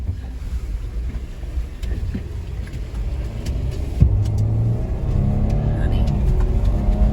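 A Jeep, a big heavy vehicle, pushes through a flooded road, heard from inside the cab as a steady engine rumble with rushing water and wind noise that swells louder and fuller about halfway through.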